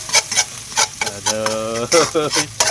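Garlic and ginger being stir-fried in a pan, quick scraping stirs and a sizzle coming in short bursts, while a voice sings a melodic line over the cooking.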